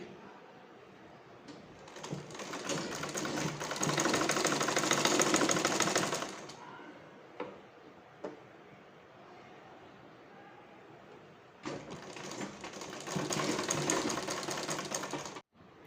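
A sewing machine stitches lace around the neckline fabric of a short maxi dress, running in two loud sustained bursts separated by a quieter stretch with a few clicks, close and alone with no talking.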